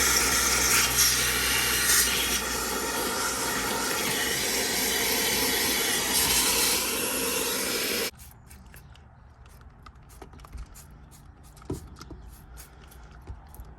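Scrubbing grime from the shifter area of a 1995 Camaro Z28, with steady harsh brushing for about eight seconds close by, then it stops, leaving quiet scattered taps and handling noises.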